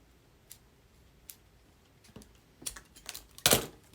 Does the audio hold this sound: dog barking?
no